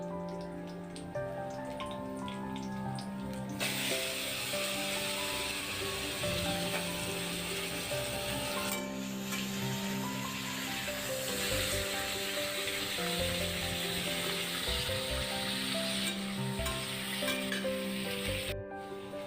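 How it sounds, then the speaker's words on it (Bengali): Chicken pieces fry with whole ginger and garlic, giving a steady, dense sizzle close up that runs throughout with brief dips, alongside some faint tonal background noise and no talking. "দেখুন আমার চিকেনটা একটু হালকা করে ভাজা হয়ে গেছে"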